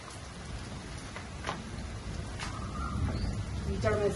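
Steady rain falls outdoors in a continuous soft hiss, with a few faint chirps over it that grow slightly louder toward the end.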